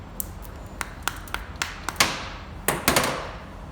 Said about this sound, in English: I'm going to take my hammer and tap this top portion